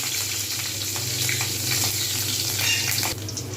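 Green chillies sizzle and fry in hot white oil in a wok, a steady close crackling hiss that runs throughout with light stirring clinks and no talk.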